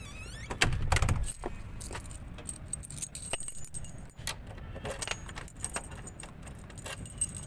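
Car keys jingle and clatter close by in steady bursts for several seconds, as someone searches for the car key before heading out to the vehicle.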